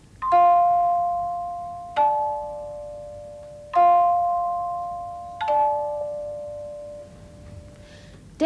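Struck bell tones, including a glockenspiel, ring out in interlocking pairs of notes, each hit decaying slowly, two melodic patterns sounding together at a relaxed, even pace.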